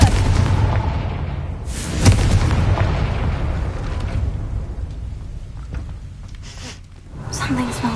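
Blasting spell explosion in the Hogwarts Legacy video game, a heavy boom that bursts out amid a loud, dense rumbling game soundscape, with a voice shouting the spell.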